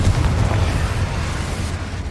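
Confringo blasting spell from Hogwarts Legacy erupting in a loud, low rumbling burst that rolls on as a sustained fiery roar for about two seconds, without any voices.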